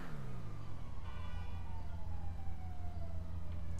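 An ambulance siren inside the video game GTA, a wailing tone sweeping down in pitch over a low engine rumble, fairly close and steady with no voices.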